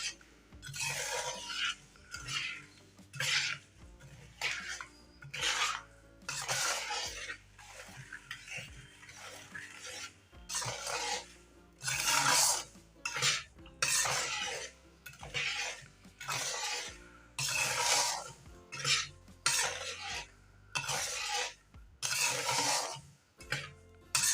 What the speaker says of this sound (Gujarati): હવે આપણે અડદિયાને સરસ રીતના હલાવી લઈશું